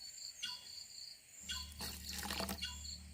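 Ragi milk and water trickle through a filter while being strained, a soft liquid dribble that starts quietly and grows into a steady close splashing pour over a low hum.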